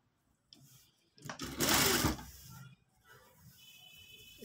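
A sewing machine stitches a simple shirt in one brief whirring run of about a second and a half, close and fairly quiet, with soft handling noises before and after.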